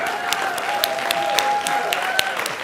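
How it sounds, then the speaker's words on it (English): Audience at a Lutheran church convention applauding, a sustained spread of many hands clapping at moderate distance, with a steady tone running under it. "you can clap for the special convention"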